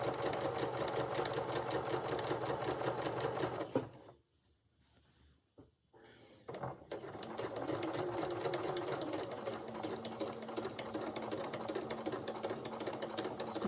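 A sewing machine stitches steadily around the waistline of a dress, a fast continuous whirring run that stops for a couple of seconds of near silence before the stitching starts up again and carries on to the end.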